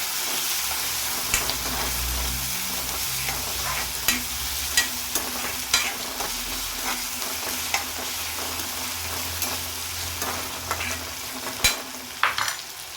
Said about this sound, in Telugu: తర్వాత ఆనియన్స్ వేసేసి బాగా ఫ్రై చేయాలి